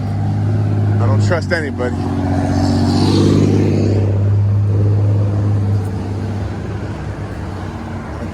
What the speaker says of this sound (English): Just watch these cars.